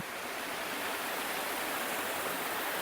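A forest stream rushes near a waterfall at a camping spot, giving a steady, dense, loud roar of flowing water heard close by and unbroken, with no voices.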